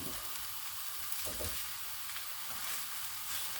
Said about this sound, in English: Spread the egg around the pan, really mix it in.